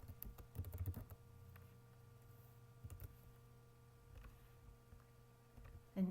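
Quiet computer keyboard typing, a quick burst of clustered keystrokes near the start followed by sparse, faint clicks, heard close up with no talking.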